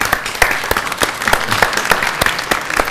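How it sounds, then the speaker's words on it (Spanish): Loud, close applause for a performer at an informal folk music gathering, steady rapid clapping from a small crowd with sharp individual claps standing out. "yo voy a pedir un aplauso cerrado para Bicho Echeverría"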